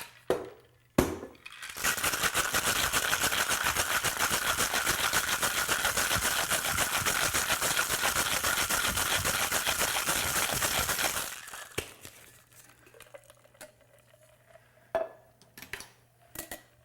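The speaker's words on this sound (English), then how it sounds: "In the Savoy, he calls for shaking it, so I'm going to just go ahead and shake it anyway." A Between the Sheets cocktail is shaken hard in a metal cocktail shaker, ice rattling in a steady rapid rhythm for about nine seconds, loud and close, then stopping abruptly, followed by a few faint clinks.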